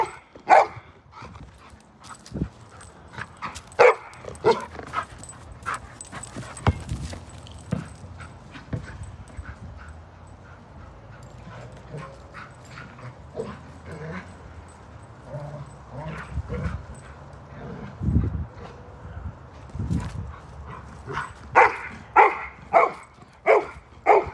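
A dog barks and whimpers at home in short scattered outbursts, with whiny yelps between louder barks and a cluster of sharp barks near the end.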